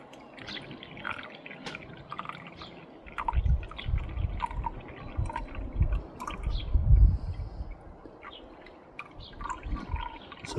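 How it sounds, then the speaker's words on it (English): Liquid trickles and drips as it drains through a filter into a container, soft splashes swelling in the middle and then thinning to sparse drops; the setting is recovering gold from RAM sticks. "I'm just going to drain this off"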